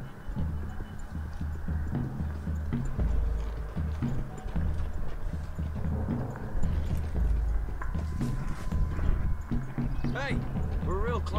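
Horse hooves clip-clop steadily at a walking pace in the video game Red Dead Redemption 2, mixed with voices talking and a low droning music bed.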